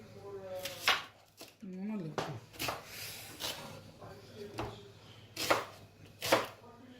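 Onions being chopped on a board for beef cutlets, a series of close knife strikes in uneven rhythm, several sharp and loud, with a person speaking over parts of it.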